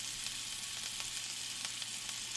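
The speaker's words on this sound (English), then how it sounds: "And this will take about 10 minutes, maybe not even. And while they cook" Asian meatballs cook in a pan with a faint, even sizzling hiss and occasional small pops, steady throughout with no voices.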